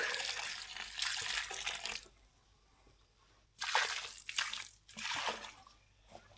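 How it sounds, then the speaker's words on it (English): Water is poured onto a wooden barn post indoors to soak it, in several close splashing pours separated by short quiet pauses. "I'm going to have to keep putting water on it because we're not outside."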